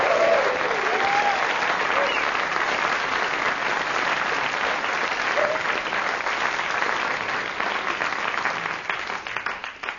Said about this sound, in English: another big round of applause for Lawrence Camley, a clever man